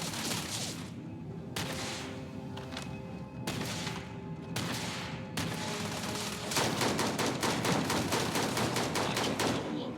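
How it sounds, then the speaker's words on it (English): Gunfire in Starfield, starting with scattered separate shots and then breaking into a rapid, loud automatic burst of closely spaced shots toward the end, with no talking over it. "I am opening fire."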